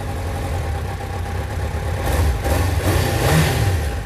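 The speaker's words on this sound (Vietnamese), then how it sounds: "khi mình trải nghiệm cái dòng bốn máy này phải nhắc tới là tiếng máy nó nổ gầm á" A four-cylinder motorcycle with a stock exhaust revs nearby, a steady idle that rises into a couple of throttle blips toward the end, with no talking.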